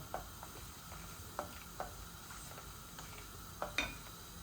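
Cumin seeds and dry spices sizzle in hot oil for a broiler chicken and taro stolon curry, a soft steady frying hiss broken by occasional sharp pops and spoon clinks, close and without talk.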